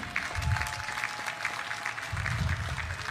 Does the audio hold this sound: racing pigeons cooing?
no